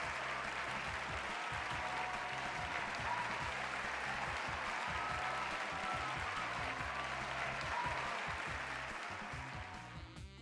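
Studio audience of the Wheel of Fortune game on PS5 applauding, a dense, steady wash of clapping that carries on for the whole stretch and thins slightly at the end, over a faint looping music bed.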